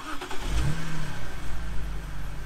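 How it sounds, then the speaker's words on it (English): A stock BMW E90 325i cranks and fires up, settling into a quiet, smooth idle with a slight rev, its engine note close and fairly subdued. "This is the completely stock standard E90325. Fire it up."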